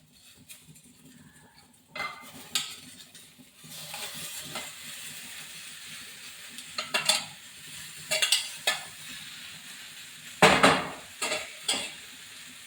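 Gooseberries are stirred and fried in a pan for pickle, with a spoon scraping and clinking against the metal at irregular intervals over a faint sizzle, close by and without talk.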